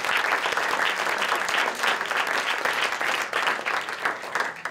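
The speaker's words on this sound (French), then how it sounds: "on peut les applaudir et les remercier" An audience at a short film night claps in steady, dense applause that holds throughout, loud and close with no voices standing out.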